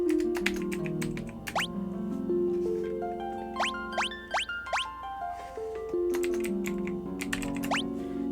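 Quick bursts of computer keyboard typing, close and clear, with pauses between runs of keystrokes, layered over game background music with chiming tones.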